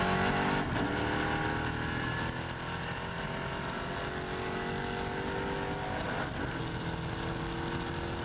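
A NASCAR Whelen Euro Series race car at the Valencia circuit brakes on a straight and shifts down to second gear: a steady engine drone whose pitch drops and steps at each gear change, heard from inside the car.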